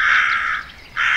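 Two harsh crow caws ring out close and loud, one long call followed after a short pause by the start of another.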